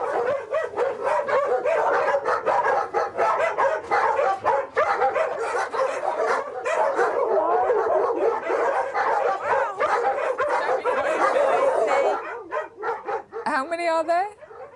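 Many dogs in a crowded house bark nonstop, yips and whimpers layered together up close for over ten seconds before the barking thins out at the end.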